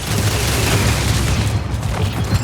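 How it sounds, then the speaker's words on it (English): Shoulder-mounted missile pods launch heat-seeking missiles in the Marathon video game, a dense, continuous barrage of booming launches and rumbling blasts that fills the whole stretch at steady loud volume. "Its prime ability is Search and Destroy, which activates shoulder-mounted missile pods that fire heat-seeking missiles"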